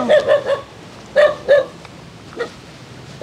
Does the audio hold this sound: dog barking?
yes